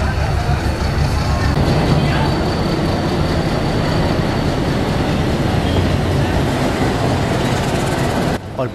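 A meter gauge passenger train running from Bahraich to Mailani pulls into a station platform, giving a loud, steady rumble of wheels and engine that holds for several seconds before easing off near the end, with faint voices mixed in.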